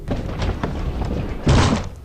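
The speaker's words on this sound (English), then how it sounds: "It made one hell of a thud when it hit the landing" A body kicked down the stairs in the Corpse Party game lands with a heavy, muffled thud. Several softer knocks come first, then one loud impact near the end.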